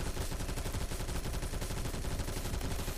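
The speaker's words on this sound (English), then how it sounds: "just shoot this wall" Sustained automatic gunfire from a light machine gun in the game Phantom Forces, shooting through a wall: a loud, dense, unbroken stream of rapid shots with no pauses, alone without talk.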